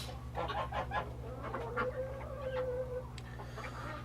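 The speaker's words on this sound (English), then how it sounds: "where's the roosters?" Chickens and roosters on a farm on a cold December day, with a few close clucks and squawks over a steady low hum, one drawn-out call standing out midway.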